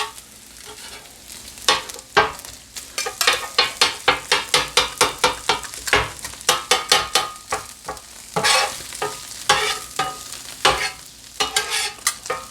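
Chopped cheesesteak meat sizzles on a flat griddle while a spatula scrapes and tosses it in quick, rhythmic strokes, sharp metallic clacks riding over a steady frying hiss, with no one talking.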